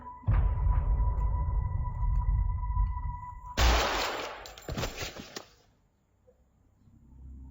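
A volley of gunfire on command inside a church sermon story: after a steady tone, a loud, sharp crackling burst breaks out, then rattles and fades into quiet.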